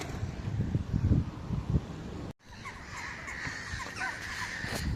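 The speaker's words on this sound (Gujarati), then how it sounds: "કાગડા અને મોટા બધા એકસાથે અહીંયા જો છે કેટલા કાગડા તો જુઓ" Crows caw repeatedly beside a lake in England's Lake District, several calls overlapping at moderate distance over wind noise and a low rumble, with a brief dropout midway.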